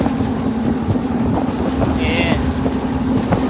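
Strong wind buffets the microphone on a boat, a constant loud rumbling roar with a steady engine drone underneath, continuous throughout.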